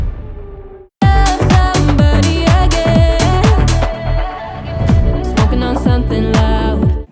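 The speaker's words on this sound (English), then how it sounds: "So I could do that with an impact sound like this." A loud, full-band impact hit lands on a downbeat as a music track moves into its second verse. The strike is a sudden boom that comes after a near-silent break and is followed by dense, punchy music.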